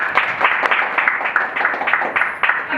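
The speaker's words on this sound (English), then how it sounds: "A big round of applause for everyone" Audience applause after a Republic Day afternoon performance, steady, moderately loud clapping that carries on evenly without breaks.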